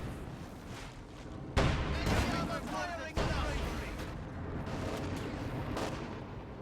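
A grenade blast in a World War II strategy video game, arriving as a sudden loud burst amid ongoing battle noise and gunfire, with a second heavy hit moments later.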